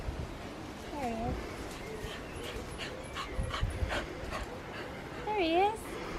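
Kirby the dog pants in quick breathy puffs, with a couple of high rising whimpers, near and moderately loud, while voices murmur in the background.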